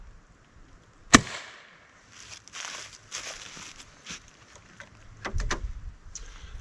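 A .22 pellet rifle fires once into a fiberboard target, giving a single sharp crack early on, followed by quieter handling clicks and rustles and a few soft knocks toward the end.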